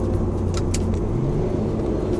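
Infiniti G35 coupe in manual mode, its engine giving a steady, close, low rumble with a faint rise in tone as it downshifts, and no talking.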